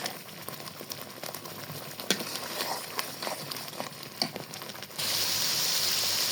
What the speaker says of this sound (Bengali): এর মধ্যে নুন, হলুদ গুঁড়া আর ধনে গুঁড়া দিয়ে সুন্দর করে মশলাটা কষিয়ে নিচ্ছি।